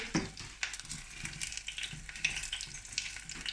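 Battered acacia flower fritters fry in a pan, giving off a crackling, popping sizzle with irregular sharp spits. It is moderately quiet and close, with no talk.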